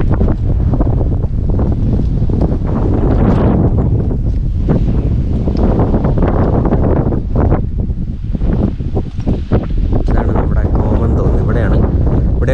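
Strong gusty wind outdoors in County Kerry, Ireland, buffeting the microphone with heavy low rumbling and fluctuating roar throughout, while a person talks underneath.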